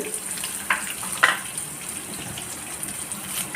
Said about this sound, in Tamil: அதுவும் நல்லா வதங்கணும். இதில் ஒரு கைப்பிடி அளவுக்கு வெள்ளைப்பூண்டு